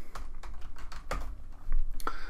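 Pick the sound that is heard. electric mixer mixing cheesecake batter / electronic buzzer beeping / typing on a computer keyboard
typing on a computer keyboard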